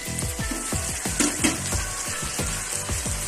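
Sugar simmers in a pan while being cooked down as a glaze for braised pork leg, giving a steady close bubbling and sizzling with rapid popping bursts throughout, no voices.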